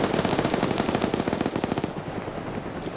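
Rapid machine gun fire in a Friday Night Fights video game match, loud and continuous bursts with a fast, steady rhythm that tails off near the end.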